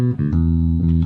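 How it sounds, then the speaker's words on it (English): Isolated low-frequency effects (LFE) bass channel of a song, a steady deep bass line of sustained low notes with a few changes in pitch, heard alone and fairly loud throughout with no voices. "this is the LFE channel, the bass channel, at least the low frequency effects channel."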